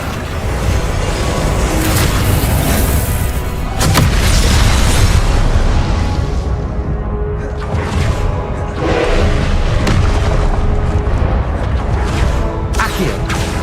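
Repeated Confringo blasting-spell explosions from the Hogwarts Legacy video game, a dense run of loud booming bursts with rumbling low end that follow one another across the whole stretch, no voices over them.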